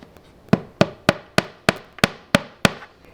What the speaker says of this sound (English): We're gonna use a hammer, so let's place this right in here.